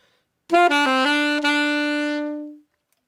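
Solo saxophone playing a triplet: three brisk, lightly tongued, separated notes followed by a sustained note that slowly dies away.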